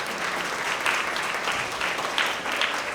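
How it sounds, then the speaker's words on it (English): An audience claps steadily for a team that reached the finals, a dense, even round of applause lasting the whole stretch with slight swells. "So let's give them a round of applause."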